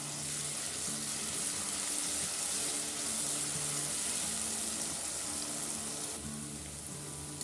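Green chili and garlic thecha sautéing in a pan: a steady, dense sizzle and frying hiss runs throughout, close and fairly loud, with faint scrapes of stirring underneath.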